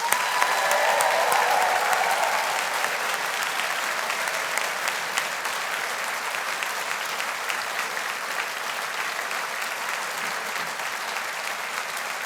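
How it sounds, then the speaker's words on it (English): Graduating class of 2023 at a university engineering faculty ceremony receives a sustained round of audience applause, dense clapping from a large hall that swells loudest at the start and then holds steady throughout. "let's give the class of 2023 a big rousing round of applause"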